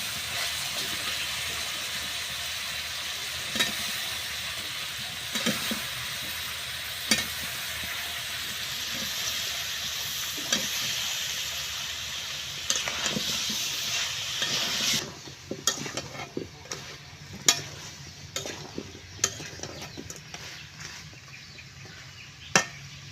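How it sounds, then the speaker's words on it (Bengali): Desi chicken and vegetable stalks stir-fried in a pan, a steady loud sizzle with repeated scraping clicks of a spatula, the hiss dropping away partway as stirring knocks continue. "ডাটা আর মাংস কষানো হয়ে গেছে"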